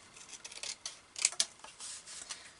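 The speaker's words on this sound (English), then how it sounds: "So I'm just going in with my scissors." Scissors cutting through paper card for an accordion card, a few quiet crisp snips with two sharper clicks near the middle, close and alone.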